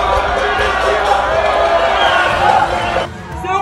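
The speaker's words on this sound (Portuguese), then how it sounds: "o malfeitor escutou panelaço, vaias e gritos de rejeição" Protest crowd banging pots, booing and shouting in rejection, a dense, loud wall of clanging and yelling voices that holds steady before cutting off near the end.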